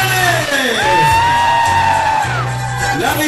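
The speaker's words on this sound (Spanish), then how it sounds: "Y el grito de las mujeres" Women in the crowd at a concert in Zimapán, Hidalgo, let out loud, sustained whoops and high cheering shouts, with a bellowed call rising over the excited crowd.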